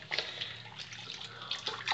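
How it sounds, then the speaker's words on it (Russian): Water runs from a tap into a tub or sink ahead of washing a cat, a steady close splashing stream with brief louder surges. "Давай включай кран"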